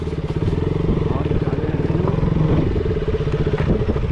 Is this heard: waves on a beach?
no